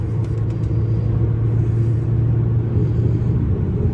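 Interior of a 2016 Audi A6 2.0 diesel quattro with semi-automatic gearbox accelerating hard in third gear, a loud steady low engine rumble and road drone filling the cabin throughout.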